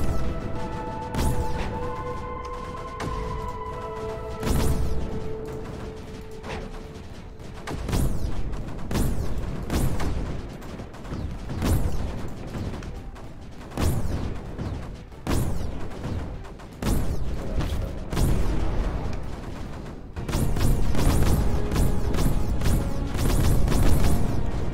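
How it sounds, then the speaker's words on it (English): Sniper fire in the video game Creeper World 4: a long run of sharp, popping bursts at irregular intervals, some close and loud, others overlapping into a crackling fireworks-like barrage over a low game hum. "there's a lot of snipers going off. Hear that sound? It's like the sound of fireworks"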